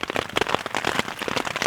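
Rain falls steadily on a mountain hunting camp in the Ruby Mountains of northern Nevada, a dense close patter of drops striking surfaces with no voices.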